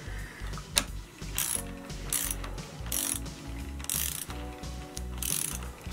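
A ratchet with a 10 mm socket loosens a bolt on a small propane outboard motor, giving repeated quick clicking strokes in an uneven rhythm, close and clear with no speech.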